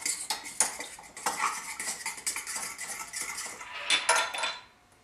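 Extra virgin olive oil being mixed in a bowl for pizza dough, a rapid run of clinking, scraping utensil strokes against the bowl, close and fairly quiet, fading out at the end.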